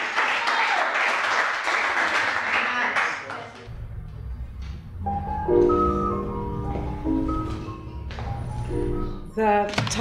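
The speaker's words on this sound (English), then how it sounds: "Let's give Pat Mitchell a great round of applause for her." An audience applauds poet Pat Mitchell at a 1998 Bayview poetry reading, a dense burst of clapping for about three seconds before it gives way to a speaking voice with some tonal sound behind it.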